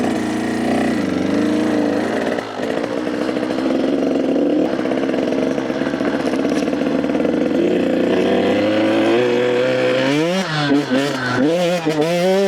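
A dirt bike's engine idles after a first-kick start, a steady mid-pitched chugging that runs evenly, then rises into several quick throttle blips near the end.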